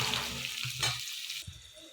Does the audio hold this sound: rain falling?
no